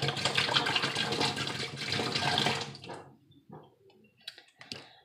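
A sink tap runs water in a steady, loud broadband rush for about three seconds, then shuts off, leaving quieter scattered clicks and small splashes.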